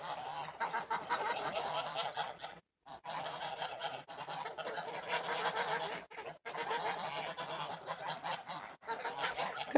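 Grey and white geese at morning feeding make a loud, dense chorus of honking calls up close, broken by a few brief pauses.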